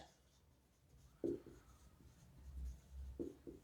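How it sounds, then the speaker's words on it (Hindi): Chalk or marker writing on a board during a physics lecture, faint scattered strokes and taps in a quiet room, with a few brief knocks. "तो चलिए अब हम लिखते हैं"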